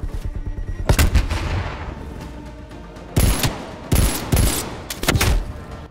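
Gunfire in Call of Duty Cold War, bursts of loud shots and rapid volleys with quieter stretches of game noise between them, no talking.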